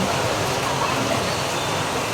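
A river at a forest adventure resort in Silang, Cavite rushes in a steady, close, hissing wash of flowing water, with no break.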